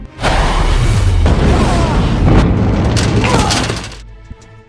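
A missile strike detonates in an action film, a loud sustained blast with crashing debris and shattering rumble filling several seconds before abruptly cutting to a quieter tail.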